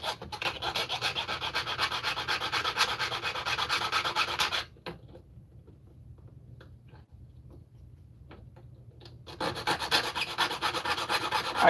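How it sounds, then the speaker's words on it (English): A file rasps back and forth across model railway track to remove a burr. Close, steady scraping strokes run for several seconds, pause for a quieter stretch, and then resume. "There's already a burr, so I can't get the ties off. Ugh. File time."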